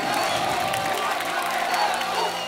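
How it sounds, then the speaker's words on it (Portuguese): Large crowd at a live concert at Salvador Fest cheering and clapping, a dense, continuous roar of shouts and applause heard from within the audience. "Eu quero palmas aqui pra essa galera aqui, ó!"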